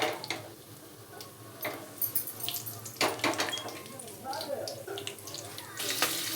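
Mustard, fennel and cumin seeds splutter and crackle in hot oil in a pan, a scatter of fast, sharp pops and ticks close by with the sizzle continuing throughout.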